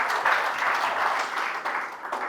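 Guests at a church wedding ceremony break into close, even applause that fades slightly toward the end, with no voices over it.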